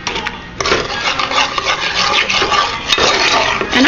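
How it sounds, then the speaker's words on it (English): A spoon scrapes and clinks steadily around a pot of melting butter for boiled cookies, cooked over an open fire, with continuous close rubbing and knocking for several seconds and no talk. "And I'm just going to stir this around."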